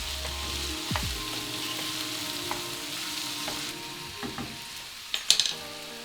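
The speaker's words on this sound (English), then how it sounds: "I'm gonna stir these green beans to make sure that we're getting an even cook on all the beans." Green beans sizzle steadily in a hot pan while being stirred, with soft scraping and a few light clicks of the utensil toward the end over a continuous frying hiss.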